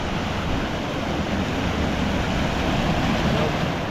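Waterfall at a campsite at Elliot Falls in Queensland, a broad, steady roar of rushing water, loud and continuous with no talk.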